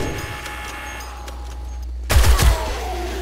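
Shotguns firing during a horde night in the video game 7 Days to Die: a cluster of heavy booming blasts lands after a low rumbling backdrop, loud and close, with no talk over them.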